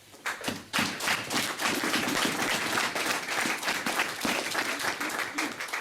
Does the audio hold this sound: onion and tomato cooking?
no